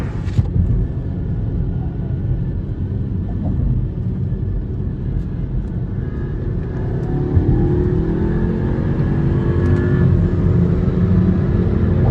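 Two Skoda Octavia 1.8 TSI cars, one Stage-1 tuned and one stock, accelerate hard in third gear during a drag race, a loud continuous engine roar and rumble that climbs steadily in pitch.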